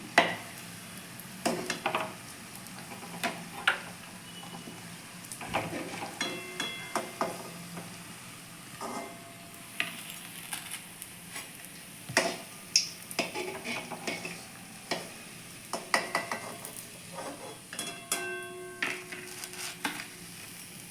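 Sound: egg chops frying in oil and being lifted out

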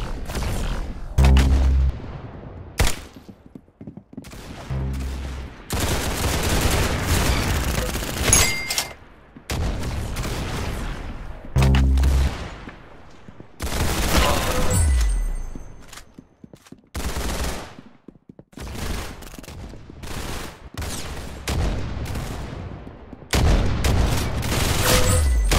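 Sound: gunshots in the video game Arsenal

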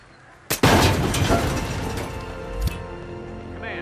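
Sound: gunfire and explosions in Hitman video game

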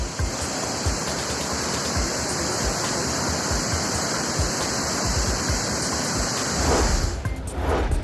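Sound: water overflowing and discharging from Bhandardara dam

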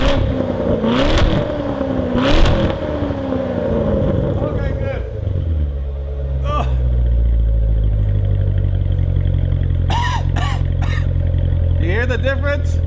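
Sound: car revving with AWE variable exhaust set loud

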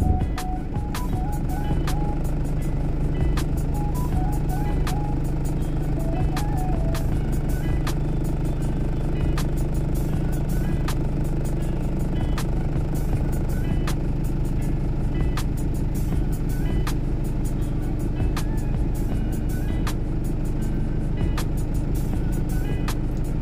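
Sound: truck driving and bouncing on a bad road

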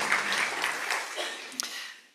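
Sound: audience applauding

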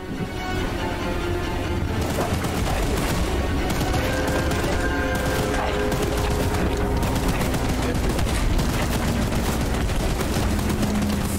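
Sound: weapon firing in video game Choo-Choo Charles

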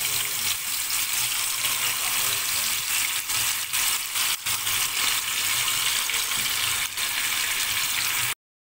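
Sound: tandoori prawns skewers frying in hot oil in a pan

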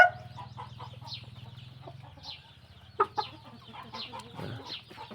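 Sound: Pa Koi chickens clucking on a farm

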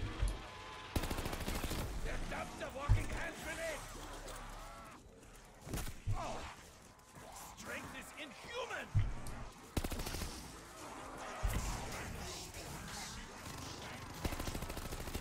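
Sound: machine gun fire in Call of Duty Zombies video game

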